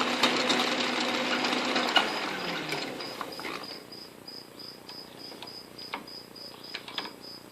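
An Atlas QC42 lathe gearbox, freshly repaired with helicoil inserts, runs with its gears engaged, giving a steady mechanical whir with a fast, faint ticking chatter, nearby and moderately loud after a brief burst of broader noise.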